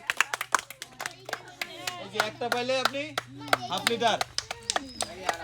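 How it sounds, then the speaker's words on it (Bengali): People at an outdoor street game about guessing colours on biryani packets clap their hands in sharp, uneven bursts of claps, close and crisp, while several voices talk and laugh over the clapping. "হাততালি"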